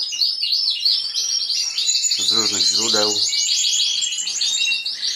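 Canaries in a breeding room chirping and trilling continuously in high bright bursts, with someone speaking briefly over the birdsong.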